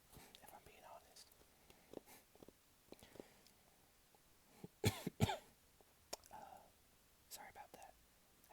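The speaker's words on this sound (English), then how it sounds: "I had to clear my throat again" Soft, close whispering runs throughout, broken midway by a pair of sharp, louder throat clears and a few small mouth and tapping noises.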